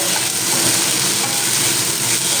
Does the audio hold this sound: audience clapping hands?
no